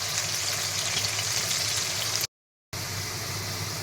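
Potatoes fry in hot oil with a dense, steady sizzle up close, cut by a brief moment of silence before the frying continues.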